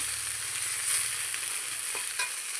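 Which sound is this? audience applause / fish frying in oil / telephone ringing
fish frying in oil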